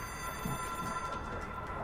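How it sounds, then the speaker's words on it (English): An in-game telephone rings in the video game Control, a faint, steady ringing tone that continues through the short moment. "I hear a phone."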